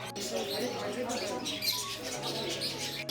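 Faint, scattered bird chirps and tweets, including cockatiels, rise over a busy indoor hum in a pet shop in Abu Dhabi while a person talks.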